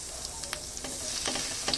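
Garlic sizzling in hot oil as it is sautéed for a boneless milkfish dish, with a steady crackle broken by a few sharper pops.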